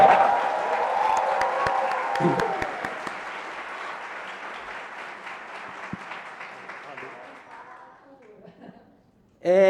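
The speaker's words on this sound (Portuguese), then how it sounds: "um salve de palmas para a Valéria, nossa presidenta" An audience bursts into sustained applause for the new president Valéria at a ten-year foundation celebration, dense clapping that slowly thins and fades away, with a voice cutting in right at the end.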